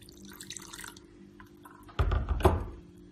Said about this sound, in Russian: Добавляю сюда воды. Вода у меня теплая.